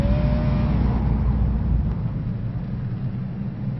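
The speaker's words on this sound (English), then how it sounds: "Mark Walls lights up the tires here on the front" A race car burning out its tires on the front stretch at WSU Phoenix Speedway makes a loud, sustained roar and rumble that eases slightly toward the end.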